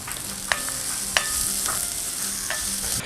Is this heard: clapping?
no